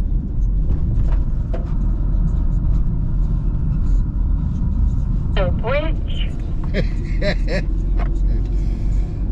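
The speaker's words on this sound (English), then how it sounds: "So we're just driving into Elsdon village" A camper van drives into Elsdon village with a steady low engine rumble and road noise throughout, close and continuous, while people talk over it in the cabin.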